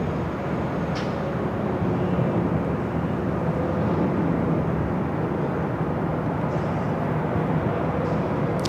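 A Korean Air Cargo plane at LAX airport makes a broad, steady jet roar that holds at an even level throughout.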